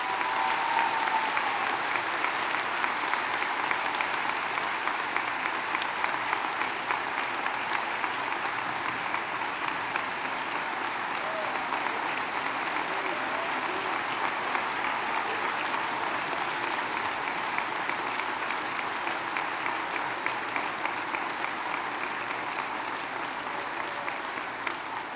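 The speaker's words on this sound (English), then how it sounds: "Please give a warm and well-deserved applause" Sustained applause from a large audience at a high school graduation ceremony fills the room evenly for about twenty-five seconds without pause.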